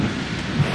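Steady rain with a low rumble of thunder in the pirate video game Sea of Thieves, a brief continuous wash of loud, even noise without talk.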